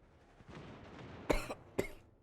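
A man coughs twice, close to the microphone, with two short harsh bursts a moment apart over faint background noise.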